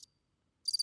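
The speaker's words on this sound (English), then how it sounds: "Crickets." Cricket chirps as a gag sound effect, a short burst at the start, a gap of silence, then a quick cluster of bright, rapid pulses near the end.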